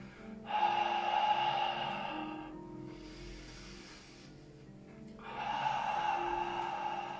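Deep breathing during a Pilates exercise: two strong, hissing exhales with a quieter breath between them, close and audible over a faint low musical hum.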